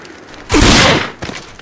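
Gunfire in the video game Rage: one loud, close burst of shots lasting about half a second, with a fainter trailing shot or thud just after.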